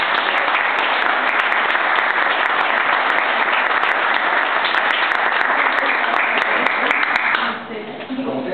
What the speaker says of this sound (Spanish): estoy pidiéndole un aplauso